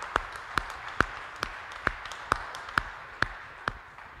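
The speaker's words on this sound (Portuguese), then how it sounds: "Eu não sei nem por que eles estão aplaudindo." A lone person claps slowly and evenly, about nine sharp claps spaced roughly half a second apart, fairly faint with quiet background and no talking.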